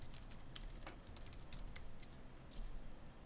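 Keystrokes on a computer keyboard while a blog post is written, a quick irregular run of light clicks with short pauses, close and fairly faint, no talking.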